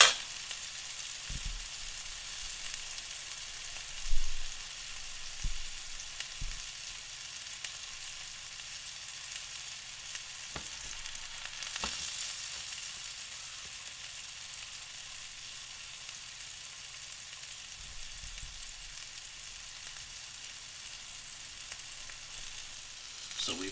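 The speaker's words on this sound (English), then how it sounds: "we've had our steak searing for a couple of minutes" A grass-fed ribeye steak sears in olive oil in a pan, giving a steady, soft frying hiss throughout with a few faint clicks and knocks, no voices.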